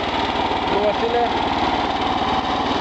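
A walk-behind tractor's small engine runs loud and close, holding a steady throbbing drone as it revs up to plowing speed.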